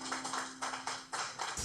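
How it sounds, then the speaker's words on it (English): Students clap in a classroom: several short, sharp bursts in an uneven rhythm, fairly close and moderately loud, with a faint steady hum underneath. "Very good, clap it up."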